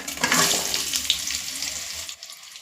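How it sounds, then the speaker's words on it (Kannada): Onion, three green chillies, garlic, dried Byadagi chillies and ginger sizzling in hot oil for a chicken kurma, a close, brief frying hiss with no one speaking. "ಇವಾಗ ಇದಕ್ಕೆ ನಾನಿಲ್ಲಿ 1 ಈರುಳ್ಳಿ, 3 ಹಸಿಮೆಣಸಿಕಾಯಿ, 1 ಗಡ್ಡೆ ಆಗೋಷ್ಟು ಬೆಳ್ಳುಳ್ಳಿ, 1-2 ಬ್ಯಾಡಗಿ ಮೆಣಸಿಕಾಯಿ, ಹಸಿ ಶುಂಠಿನ ಹಾಕ್ಕೊಳ್ತಾ ಇದ್ದೀನಿ"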